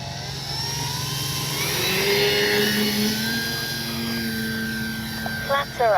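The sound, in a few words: Dynam Beaver V2 RC model plane taking off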